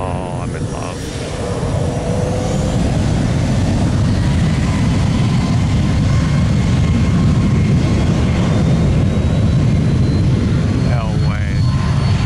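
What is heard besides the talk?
MD-11 jet airliner engines at takeoff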